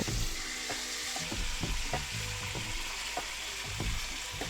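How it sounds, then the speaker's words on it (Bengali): Katla fish pieces fry in mustard oil in a kadai, a constant spattering sizzle up close, punctuated by irregular spoon scrapes and taps as the fish is worked on both sides. "মাছটা 2 পিঠ ভালো করে ভেজে নেব"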